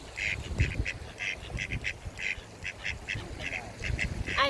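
Ducks quacking in short repeated bursts, fairly close, with a steady outdoor background and some low rumbling noise.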